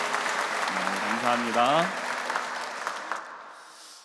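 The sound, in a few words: church congregation applauding in welcome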